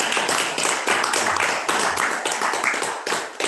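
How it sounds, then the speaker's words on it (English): Audience applause for Mark Brewer at a local Democratic meeting, a dense burst of close clapping from a small crowd that fills the whole moment without a break. "Mark Brewer, a big round of applause."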